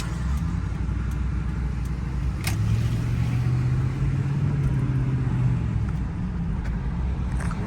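A Ford F-150 pickup truck driving after a cylinder 8 misfire repair, its engine a steady low rumble with road noise from inside the cab, smooth and continuous with a slight rise in engine pitch midway.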